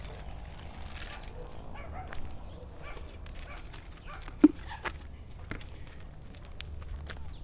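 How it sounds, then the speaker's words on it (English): A puppy barks somewhere nearby among a litter of dogs in Thailand, with a few faint, short yips and one sharper bark over a quiet background, and no speech. "I can hear that one barking in there."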